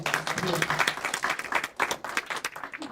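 An audience at a trustee workshop claps steadily throughout, a dense run of applause from many hands with no talking over it.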